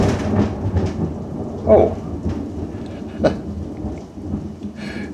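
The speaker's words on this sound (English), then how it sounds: "Excuse the loud thunder there." Loud thunder rumbles through a rainstorm with a low continuous roll and a few sharper cracks, rain hissing throughout while a man briefly exclaims.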